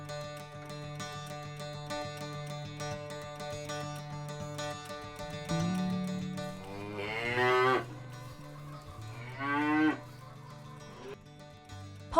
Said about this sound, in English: Cattle. Ganado.